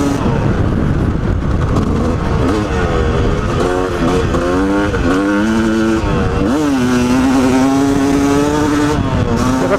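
A Yamaha YZ250 two-stroke dirt bike screams flat out in fifth gear off-road, loud and close with a rising, wavering engine pitch and a brief dip, wind buffeting throughout.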